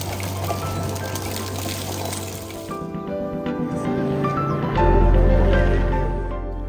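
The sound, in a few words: spring water flowing out of the ground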